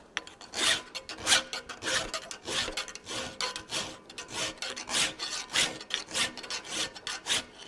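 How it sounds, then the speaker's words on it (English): A metal hand file, serviceable but not in top condition, works a forged decorative wrapped handle on a bending fork. About a dozen steady, rhythmic rasping strokes sound close up, with no talking. "it's not a wore out file, but it's not the best file in the best condition either"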